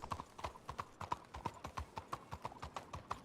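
A thoroughbred horse walks in a video game, its hooves clip-clopping in a steady, even rhythm of sharp, close strikes, with no talk over it.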